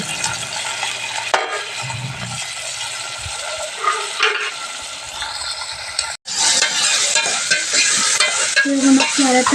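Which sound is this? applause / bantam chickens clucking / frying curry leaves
frying curry leaves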